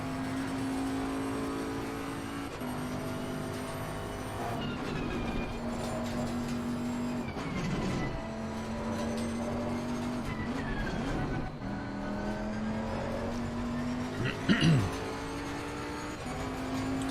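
A race car laps Silverstone with a steady, high engine drone that rises and falls through gear changes and braking into corners. The sound is heard from onboard at a moderate level, with a short tyre squeal late in the lap.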